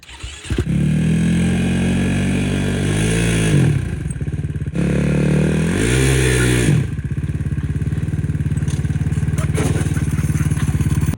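A buggy powered by a KTM 450 engine roars loud and close, its engine droning steadily and revving up twice in quick swells before settling back into a sustained, rough running note.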